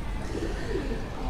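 Pigeons coo low and steadily on a rooftop, a soft continuous murmur with no talk over it.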